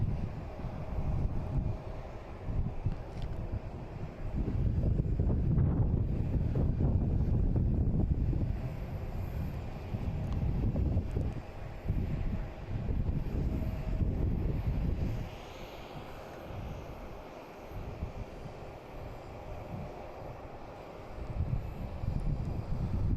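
Delta airliner, Flight 125 from Lisbon, arriving at Boston Logan International Airport: a broad, steady jet roar under heavy wind buffeting on the microphone, loudest early on and then easing to a lower rumble.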